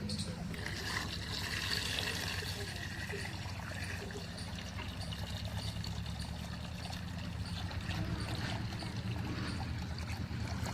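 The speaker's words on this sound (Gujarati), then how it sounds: "ડોલમાં પાણી ભરીને" Tap water runs steadily into a bucket, a continuous splashing rush that holds at a fairly loud, even level throughout.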